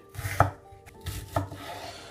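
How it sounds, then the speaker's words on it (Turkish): Red or white onion sliced thinly on a board for piyaz, two crisp knife chops close up with a short pause between, no speech. "İster kırmızı ister beyaz soğan. Piyazlık şekilde doğra ince ince."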